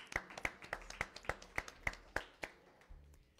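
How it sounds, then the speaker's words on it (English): Scattered claps from a small church congregation, about a dozen sharp separate hits in an uneven rhythm, fairly faint and not building into full applause. "Give the Lord a round of applause."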